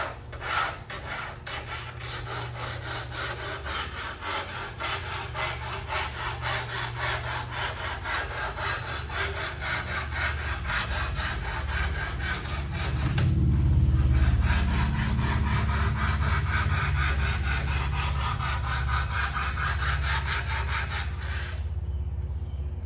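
A fine file worked back and forth over a saw during servicing, a continuous close rasping scrape with rapid rhythmic strokes, growing a little louder midway and stopping abruptly at the end.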